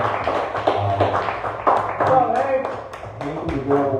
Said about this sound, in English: A big round of applause for Hank,